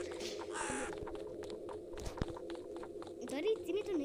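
A crow caws in a Roblox horror game, harsh calls cutting through a busy game soundscape with steady speech and footsteps; a rising cluster of caws near the end.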